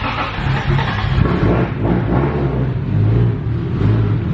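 A Toyota JZX100 with a titanium exhaust cranking and trying to start, a low, rough engine rumble with uneven chugging throughout, fairly close and moderately loud, no clear catch into idle.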